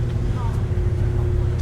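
A 1912 Titan 30-60 Pioneer antique tractor drones with a low, steady engine rumble at an outdoor prairie tractor show, with someone talking over it.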